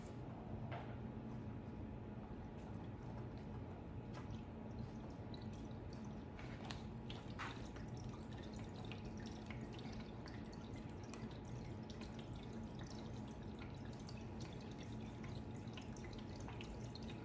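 An AeroGarden hydroponic garden with water cycling through it, giving a faint, steady trickle and low pump hum with occasional soft drips in a quiet room.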